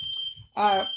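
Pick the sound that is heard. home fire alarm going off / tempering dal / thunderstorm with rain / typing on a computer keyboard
home fire alarm going off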